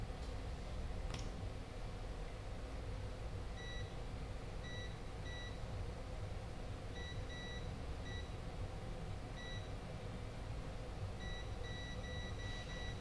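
Short, faint, high multimeter continuity beeps in pairs and triplets as shorted components on a circuit board are probed, spaced irregularly over a constant low background hum.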